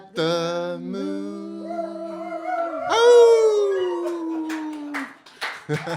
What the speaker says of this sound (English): Thank you for howling along with us out there in the world.